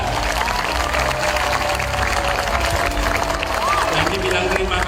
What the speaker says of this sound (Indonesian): kita beri tepuk tangan buat ibu-ibu kita